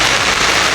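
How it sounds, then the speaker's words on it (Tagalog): Heavy rain pours down steadily at a fishing spot, a dense, loud hiss of drops filling the short moment with no voices over it. "Tignan nyo, sobrang lakas ng ulan oh."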